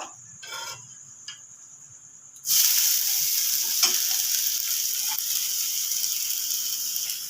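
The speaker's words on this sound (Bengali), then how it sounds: "এবার তেলের মধ্যে আলুটা দিয়ে দেবো।" Finely grated potato goes into hot oil and bursts into a loud, continuous sizzle that holds steady, following a few quiet kitchen clatters.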